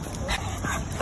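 An excited dog whimpering and yipping at another dog, short high whines in quick succession at moderate distance, with faint background voices.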